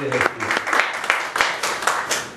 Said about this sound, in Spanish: Puede darle un aplauso al Señor, hermano